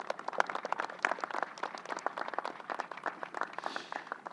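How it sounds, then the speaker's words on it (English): Audience applause at an outdoor groundbreaking ceremony on Long Island, a steady patter of many hands clapping at moderate distance, dense and fairly even for several seconds. "Let's give another round of applause to Adrian Esposito, Senator Todd Kaminsky, Assembly Member Judy Griffin."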